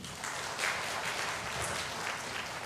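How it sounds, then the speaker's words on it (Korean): Brief burst of audience clapping during a lecture-style talk, a moderate, steady patter of many hands lasting only a couple of seconds. "박수 한번 주시겠습니까?"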